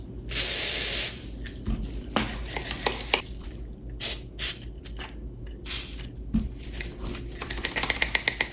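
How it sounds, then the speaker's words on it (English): New pliers rinsed under a running faucet: a loud hiss of spraying water for about a second, then irregular splashes and metallic clicks of the tool being worked, with brief bursts of flow returning, no speech. "Let's rinse it out."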